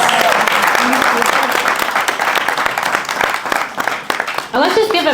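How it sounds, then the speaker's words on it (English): A crowd applauds guest speakers at a business and entrepreneurship event, with loud, dense clapping throughout and a voice speaking over it near the end. "can we just give a round of applause for Joëlle?"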